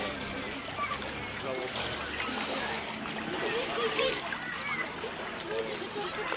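Continuous water splashing and sloshing close by, a busy churning texture with no clear pauses, of someone swimming in the sea at Zelenogradsk.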